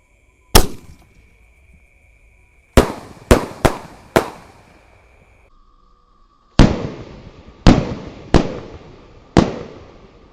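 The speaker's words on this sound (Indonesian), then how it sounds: "Sudah menyala ini Basoka pelontar 4 tor malam ini guys." A four-shot Roman candle bazooka firework launcher fires at night, giving a single sharp bang and then clusters of loud, crisp reports, each with a ringing decaying tail. A thin steady whistling tone runs between shots.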